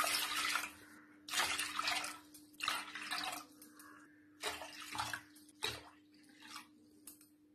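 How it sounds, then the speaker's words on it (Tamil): Water pours in several separate bursts into a cooking pot, splashing loudly for a second or so each time with short pauses between, close up. "அதுக்கு நான் 6 டம்ளர் தண்ணி ஊத்த போறேன்"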